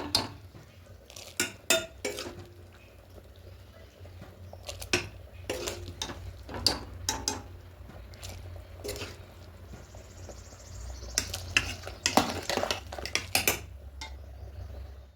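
Spoon and metal pot clatter as cooked spices are transferred into a cooking pot for vegetarian khichuri, with scattered sharp clinks and scrapes over a low kitchen hum.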